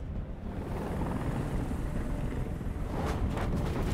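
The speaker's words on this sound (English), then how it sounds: "Helicopter, you're ruining everything." A helicopter in an action video game produces a steady, loud, broadband rotor roar throughout, dense in the low end and slightly swelling toward the end, with no talk over it.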